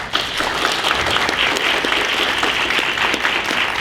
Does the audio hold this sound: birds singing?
no